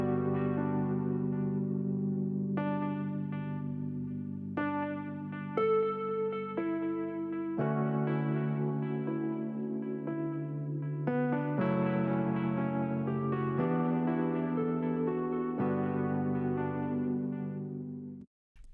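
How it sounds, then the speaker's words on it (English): Rhodes electric piano chords from an Arturia software instrument play a slow sustained progression, warm bell-like tones held and changing every second or two, clean and alone. "It is a Rode piano."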